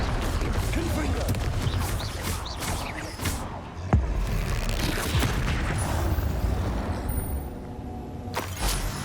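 Confringo blasting spell explosions in Hogwarts Legacy, sharp bursts and crackling blasts amid ongoing combat noise, with a sudden strong hit near the middle and further impacts, a voice speaking over the action.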